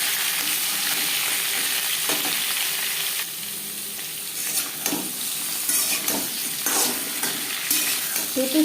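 Papaya is stir-fried in a pan with panch phoron, dried red chilli and bay leaf for a vegetarian drumstick chorchori. A steady close sizzle runs throughout, with scraping spatula stirs.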